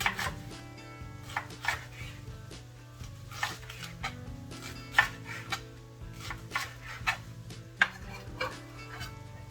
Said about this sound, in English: I like to slice mine down the middle and then chop them this way